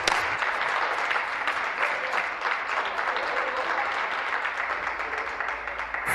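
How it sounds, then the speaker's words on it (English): Members of the Ontario legislature applaud a colleague's speech in the chamber, a full, continuous roar of clapping from many hands, loud and even from start to finish. "for all that applause from my colleagues"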